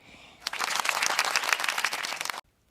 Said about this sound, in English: can I get a round of applause for those heels?